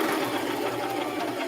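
A sewing machine stitches a sweatshirt in one continuous, close, steady run of whirring that lasts about a second and a half.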